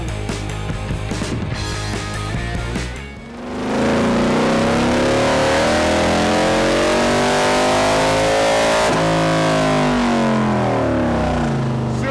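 Motorcycle engine revving hard on a dynamometer, a loud sustained high-rpm wail with rising and falling pitch after a brief dip, preceded by a few seconds of rougher idle-like running.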